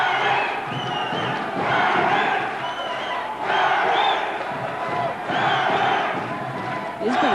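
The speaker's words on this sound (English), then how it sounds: "Crowd getting behind Darren Zappa." A boxing crowd at a lightweight title fight in Moorabbin Town Hall cheers and roars for Darren Zappa, a loud sustained swell of voices with shouted surges.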